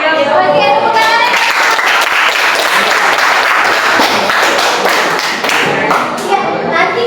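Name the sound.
audience applause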